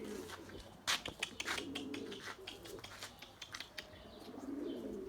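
Erzurum white breeding pigeons coo softly close by, low repeated rolling calls mixed with occasional wing flaps and small clatters in a quiet loft.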